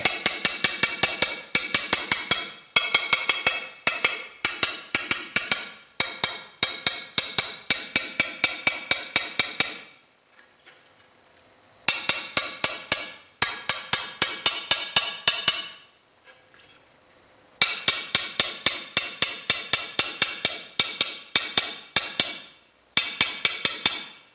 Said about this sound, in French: maintenant nous allons frapper le côté opposé pour que le verre se libère